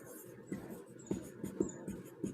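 Rhythmic scratching of a pen across paper while a maths solution is worked out, with short strokes in quick bursts and brief pauses between them, close and fairly quiet.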